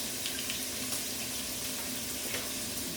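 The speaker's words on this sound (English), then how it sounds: "Wash my hands again." Tap water runs steadily into a kitchen sink during hand washing, a soft continuous hiss and splash with no talking.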